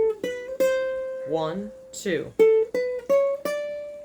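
A ukulele plucks a riff, with clear single notes and short ringing phrases. A voice counts in partway through.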